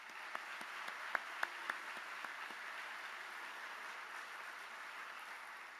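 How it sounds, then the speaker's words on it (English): A university auditorium audience gives soft, distant applause, with a few sharper individual claps standing out over a steady, faint wash of clapping. "How about a round of applause for them?"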